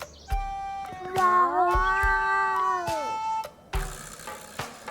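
A group of cartoon cats from the anime-style game Sushi Ben: short clicks, then a long, wavering meow and a brief second cry, clear and close against near silence.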